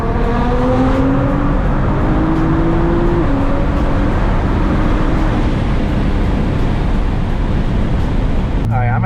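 A Nissan GT-R with a loud exhaust and lowering springs pulls hard along a canyon road, its engine droning and rising through gears in a steady, close, continuous roar with faint wind rush.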